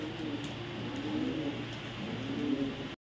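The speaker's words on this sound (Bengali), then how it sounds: "এখানে আছে এক পেয়ার ইউরোপিয়ান টয় লাহোরি কবুতর" A pair of European Toy Lahori pigeons coos steadily and nonstop in soft, low, rolling calls over a constant background hiss, then the sound cuts off abruptly.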